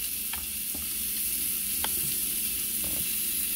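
Three small tomatoes sizzle in a hot pan while cooking for frijoles charros, giving a steady, close hiss with a few soft clinks and scrapes.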